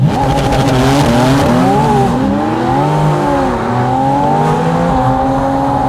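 Porsche Spyder RS engine howling loud and close while driving on open roads, its pitch sweeping up and down through gear changes with tire squeal mixed in, continuous throughout with no talking.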